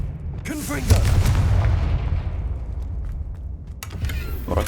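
A booming blast from the Confringo spell in the PS5 game Hogwarts Legacy erupts loudly and then rumbles away for a few seconds, with a second softer impact near the end.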